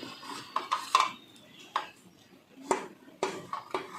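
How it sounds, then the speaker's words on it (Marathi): A knife cuts cooled rolls of dill (shepu) vadi into pieces on a hard surface, giving a series of sharp, close taps and clicks at irregular intervals with quiet gaps between. "सुरीने आपल्याला पाहिजे त्या आकारात अशा वड्या कट करून घ्यायच्या आहेत"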